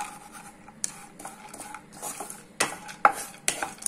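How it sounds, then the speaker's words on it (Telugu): Cashews, almonds and raisins stirred in ghee in a pan, with scraping and clinking of a spoon against metal in irregular strokes and a faint sizzle underneath, close and fairly quiet. "ఈ విధంగా కలుపుకుంటూ వేయించుకోవాలండి జస్ట్ ఒక 2 మినిట్స్"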